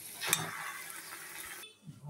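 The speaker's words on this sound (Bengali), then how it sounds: "যত শুকনো হয়ে আসবে, যেমন কচু শাক যেমন শুকনো হয়ে আসে, তখন এইভাবে ঘেটে ঘেটে ঘেটে ঘেটে শুকনো করতে হবে।" A vegetable mash is stirred in a pan to dry it, soft scraping and sizzling from a spoon working through the mixture, faint and close, with a brief clatter near the start.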